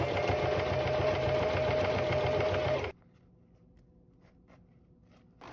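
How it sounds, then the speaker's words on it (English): Sewing machine straight stitching a reversible bag, a loud steady mechanical whir for about three seconds, then stopping to near quiet. "Now straight stitch to finish it."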